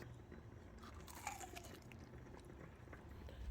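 Someone bites into extra-crispy fried chicken nuggets (chicharrón de pollo), giving a quiet, close crunch followed by soft chewing, faint and alone.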